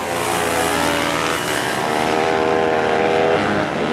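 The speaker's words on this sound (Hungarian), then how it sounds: "Számadó Máté nagyon szépen motorozik a két Mini GP Pro kategóriás motorossal" Mini GP Pro racing motorcycles passing on a track, a loud, close engine whine that rises in pitch as the bikes accelerate, with no voices.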